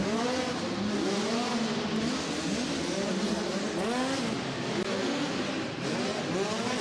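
USAC micro race cars running hot laps on an indoor dirt track at Du Quoin, Illinois, their engines droning and rising and falling in overlapping waves as they circle steadily, loud and continuous.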